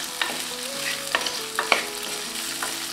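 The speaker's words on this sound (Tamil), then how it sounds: "ஒரு 2-3 நிமிஷம் நல்லா முருங்கைக்காவை வதக்கி விட்டுக்கலாம்." Oil sizzles steadily in a pan of sautéing drumsticks (moringa pods) while a spoon scrapes and clicks through them in a few quick stirs, close and clear.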